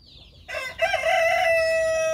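A Darag rooster gives a single clear, loud crow close by, rising into a long sustained call that holds to the end.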